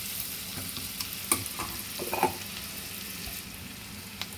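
Onions fry in hot oil for a chicken egg fry curry, with a close, continuous sizzle broken by scraping stirring strokes and occasional clinks of the spoon against the pan.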